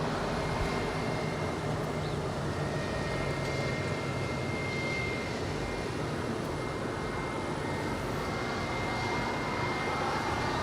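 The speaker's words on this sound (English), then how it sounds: "That is Spirit Airlines Flight 590 coming in from Houston at A320" A Spirit Airlines A320 comes in to land at LAX, a distant, moderately faint jet roar holding steady with a thin tonal whine above the broad rumble.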